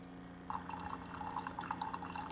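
Keurig K Select coffee machine brewing through a refilled reusable K cup with a paper filter: a soft run of quick, evenly spaced drips into a cup over a faint machine hum.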